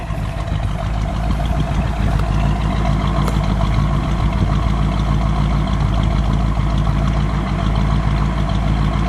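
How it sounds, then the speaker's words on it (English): A 1967 Buick Riviera V8 engine idles steadily, a low continuous rumble with a faint mechanical hum, close by and unchanging throughout. "Let me listen to it idle."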